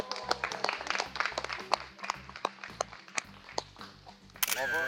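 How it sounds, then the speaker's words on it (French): A small audience applauds after a tropical plant arrangement is finished, quick scattered claps over soft background music, ending in a brief electronic tone. "vous vous applaudissez"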